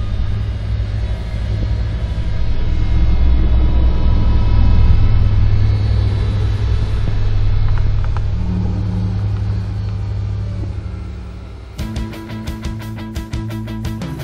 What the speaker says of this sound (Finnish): Suomessa valmistettu Valtra T234, meidän uusin malli.